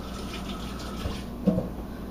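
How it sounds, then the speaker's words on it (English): Hands rinsed under a running kitchen tap while baking biscuits, a steady soft stream of water with a brief splash near the middle, close and fairly quiet. "I'm going to rinse my hands quickly."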